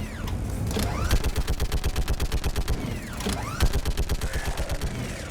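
A gun turret in the game Mass Effect 3 fires rapid bursts of heavy automatic shots, loud and close, in two long rhythmic volleys separated by a short pause, with mechanical whirring and sweeping tones between them.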